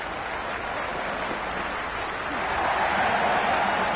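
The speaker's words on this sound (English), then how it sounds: "the crowd have joined the party. It's pretty noisy at the ground" Crowd noise at a cricket ground in the Cricket 26 video game forms a diffuse, steady murmur of spectators that swells noticeably louder partway through.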